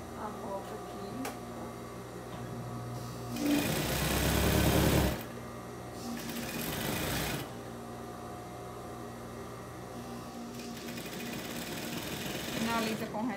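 A sewing machine stitches around a cloth doll's head in two distinct whirring bursts, one louder and one softer, with quieter spells between them and someone talking softly in Portuguese throughout.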